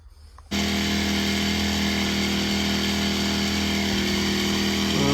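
A water pump's motor kicks in after a brief quiet start and runs at a loud, steady drone while a tractor is washed outdoors.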